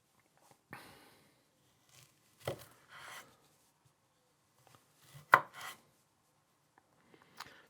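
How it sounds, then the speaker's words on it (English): A knife cuts Zephyr summer squash into chunks, making a handful of sparse, close, crunchy slices and board knocks separated by quiet pauses, with one sharper thud in the middle. "So I'm going to cut some smaller chunks."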